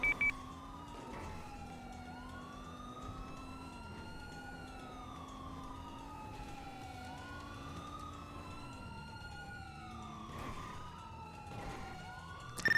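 Multiple police sirens wail and sweep in a game during a jewelry store robbery, their rising and falling tones overlapping steadily over a low vehicle rumble, with a couple of sharp bursts of noise breaking in along the way.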